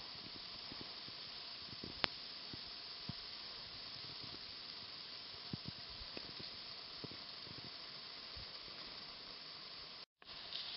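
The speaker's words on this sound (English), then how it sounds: "the tallest waterfall in between the Appalachian Mountains and the Rocky Mountains at over 200 feet" Hemmed In Hollow Falls, a waterfall over 200 feet tall dropping into a hollow ringed by high cliffs, gives a faint, steady, even rushing hiss with no voices, broken only by a momentary dropout near the end.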